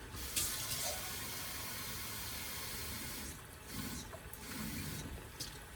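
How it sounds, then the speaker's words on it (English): A can that held tomato sauce being filled with water at a kitchen sink, a steady close rush of running tap water with a few clinks of metal near the end, no talking. "just fill up that here can with water."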